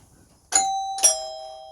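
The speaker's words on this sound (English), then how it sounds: "And the innovation chime." An electronic doorbell rings a two-note chime, two clear bright tones struck about half a second apart that ring on and fade, heard alone in a quiet room.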